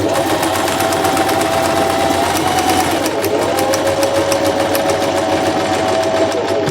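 A sewing machine runs steadily, stitching fabric with a loud, continuous whirring hum and a fine rapid ticking, close up and without pause.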